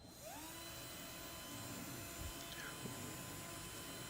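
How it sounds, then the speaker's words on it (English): A hand drill runs steadily as it spins a small antenna piece against sandpaper to sharpen its edge, giving a continuous whirring drone with faint scraping; no one speaks. "on the edge you keep running the drill and you check whether it is sharp enough"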